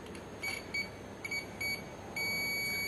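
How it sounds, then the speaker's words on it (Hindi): A multimeter's continuity buzzer sounds while its leads test the contacts of an air compressor pressure switch: several short, quiet, high beeps in an uneven rhythm, then one sustained tone. "मल्टीमीटर में लाइट जल रही है और बजर भी हमारे बज रहे हैं"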